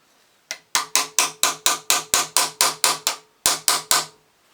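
A punch struck with a hammer while a Lucas C40 dynamo is reconditioned: about fifteen loud, ringing metallic blows land close by at an even, rapid rhythm, with a short pause before the last few and no voices.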